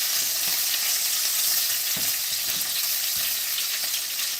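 Burger sliders sizzle and simmer in a pan, giving a steady, bright, crackling hiss with occasional soft knocks of the pan or utensil, close by and with no one speaking.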